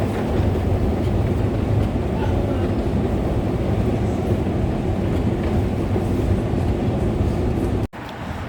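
A metro train running underground, a loud steady rumble and roar that holds throughout, then dips sharply near the end before resuming.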